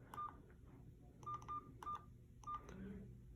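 Keypad button tones from a Plum Ram 7 4G mobile phone, several short electronic beeps in irregular groups over faint background hum, close and fairly quiet with no speech.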